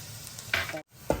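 Chopped garlic and dried red chillies hitting hot oil in a pan and frying, with a sudden sizzle burst and stirring, close by with no talking, the sizzle flaring again at the end.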